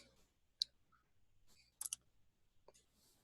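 Computer mouse clicks sound faintly in a quiet room: a single sharp click, then a quick double click a moment later, with another soft click near the end.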